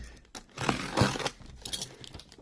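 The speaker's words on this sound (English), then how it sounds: "Let's just cut the tape here." Packing tape being sliced and torn open on a cardboard box of 1:18 scale models, a couple of quick ripping strokes with crinkly handling noise between them, close up.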